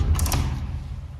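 A double-glazed window being closed: a few quick creaking, scraping mechanism sounds at the start, then the traffic rumble outside fades down as the window shuts.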